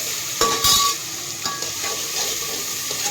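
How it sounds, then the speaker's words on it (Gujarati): Tomatoes cook in a pan for a chickpea dish, sizzling steadily while a utensil stirs and scrapes in a few brief strokes. "તો અહીંયા મસ્ત આપણે ટમેટા છે ચડવાના મૂકી દીધા છે"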